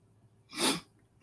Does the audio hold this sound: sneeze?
yes